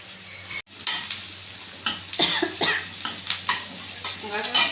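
Onion sautéing in a pan for a cabbage poriyal, with a steady close sizzle and several louder bursts of spoon stirring and scraping against the pan, alone with no talk.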